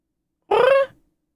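A cat gives a single short, squeaky meow, close and fairly loud, cut off abruptly and followed by silence.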